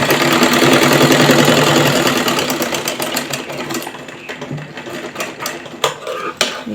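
A sewing machine stitches the slit of a straight kurti, running fast with a steady close whir for several seconds before slowing into separate mechanical clicks and ticks.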